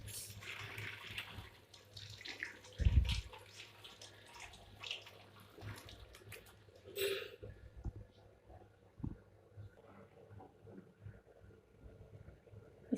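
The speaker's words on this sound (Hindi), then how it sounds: "देखिए सबसे पहले मैंने टमाटरों को धो लिया अच्छे से।" Tomatoes washed under a running kitchen tap produce a steady trickle and splashing with occasional knocks and clicks, then the water shuts off and quieter handling sounds follow.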